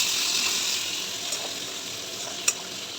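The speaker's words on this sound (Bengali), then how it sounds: "মাংস পেঁয়াজটা ভেজে নিচ্ছি" Onions fry in a pan for mutton, giving a soft, steady sizzle with light stirring and one sharp clink near the end.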